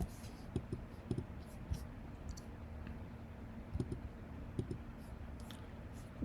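Soft, scattered keyboard clicks come in small clusters while someone writes Python code, faint over a low background hum with no talking.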